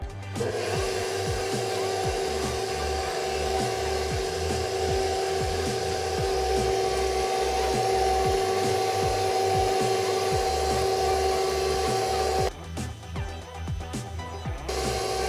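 An electric mixer runs at slow speed through red velvet cake batter, a steady close motor hum with rhythmic rubbing and thumping of the beaters against the bowl, continuous and fairly loud until the pitch shifts near the end.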